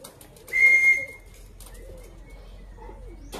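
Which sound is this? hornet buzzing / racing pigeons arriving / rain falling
racing pigeons arriving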